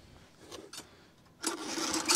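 A small farm tractor (patpat) engine is started up close. Two brief cranking bursts come first, then the engine catches and keeps running with a steady, rough clatter.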